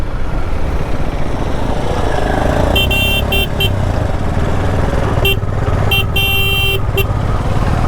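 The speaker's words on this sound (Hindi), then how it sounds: "क्या ही ट्रैफिक लगा पड़ा है भाई।" A long traffic jam on an Indian highway near Garhmukteshwar, with a steady, loud rumble of car and motorcycle engines close by and several bursts of horn honking, some short and some held, cutting through in two clusters.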